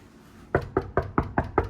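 Knuckles rap on a hotel room door six times in a quick, steady rhythm, each knock close and solid.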